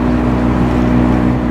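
Loud, steady drone of a boat motor running at speed, continuous and close with no pauses.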